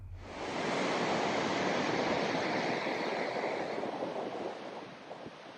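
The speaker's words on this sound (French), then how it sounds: "Ici, le Doron se transforme presque en cascade." The Doron mountain river near Mottaret rushes down almost like a waterfall, a dense, loud, continuous roar of white water that holds steady before easing slightly at the end.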